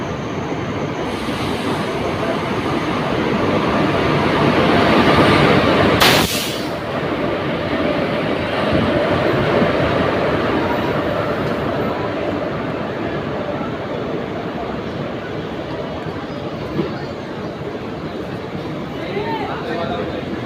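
The Jhelum Express rumbles past in a steady, loud roar of wheels and rushing air. A sharp bang breaks in partway through.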